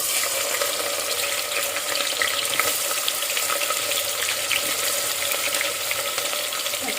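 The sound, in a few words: onions frying in oil for Telangana mutton curry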